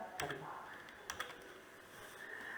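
Someone types a line of Python code on a computer keyboard, giving a few quick, soft clicks of keys over a quiet hum.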